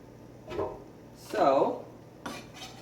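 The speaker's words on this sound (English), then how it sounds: "chop them up, and I'm going to make that a little bit smaller" A knife chops yellow squash seeds on a board, giving a few close, distinct cutting knocks with a scraping stroke in between.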